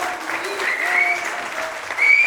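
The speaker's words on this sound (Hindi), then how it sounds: "शानू जी के जोरदार तालियां" Audience clapping at an event welcoming a guest on stage, a brief burst of applause rising toward the end, with voices mixed in beneath.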